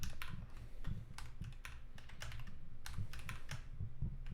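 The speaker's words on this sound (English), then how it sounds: "oh my gosh, I've forgotten how to type on a normal keyboard" Steady typing on a normal computer keyboard, a quick continuous stream of close key clicks and clacks with no talking.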